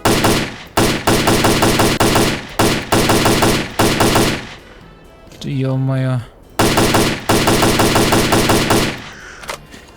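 Loud rapid bursts of automatic gunfire in S.T.A.L.K.E.R.: Clear Sky in repeated volleys, with a short spoken exclamation in a pause between bursts.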